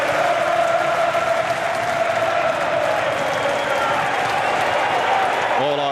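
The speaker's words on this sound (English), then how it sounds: "You can hear the whistles from the crowd. They want to hear the sound of that full-time whistle." Football crowd at Watford v West Bromwich Albion in the EFL Championship whistling in added time, urging the referee to blow for full time, a loud, dense, sustained wall of shrill whistling and crowd noise.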